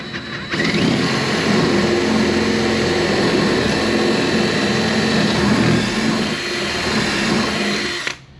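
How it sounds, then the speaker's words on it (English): A power drill bores holes through a wooden stringer while a 1964 Correct Craft American Skier boat is restored; the drilling runs loud and steady for about eight seconds, close by, with no talk over it. "going to drill these holes to make sure that they're straight"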